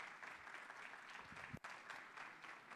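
Applause from a conference audience after a talk at an artificial intelligence congress, faint and distant, an even wash of clapping with one sharp knock partway through.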